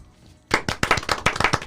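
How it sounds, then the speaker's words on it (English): After half a second of near silence, a small group bursts into close, uneven clapping, a quick run of sharp hand claps that continues to the end. "Round of applause."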